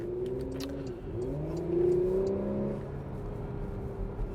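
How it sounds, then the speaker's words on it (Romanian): A Porsche Macan engine revs up with a deep, throaty sport exhaust note, rising and falling in pitch, close by and moderately loud. "pentru că avem această evacuare sport pe mașină"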